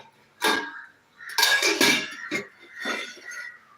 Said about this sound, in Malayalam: ഇതിന് ഒരു പാത്രം അവിടെ എടുത്തിട്ടുണ്ട്